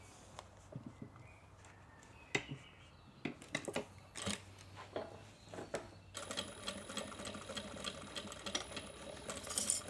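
A sewing machine stitching a fabric bag strap, short bursts of rapid mechanical whirring, then a longer steady run, with handling clicks and rustles in between.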